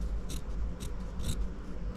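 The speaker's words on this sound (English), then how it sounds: "You don't want this to show through the other side, so you're gonna cut as close as you can without cutting through" Scissors snipping fabric close to a seam on a McCall's 7405 sewing project, three or four short, crisp cuts spaced apart, near and clear over a low background hum, with no talking.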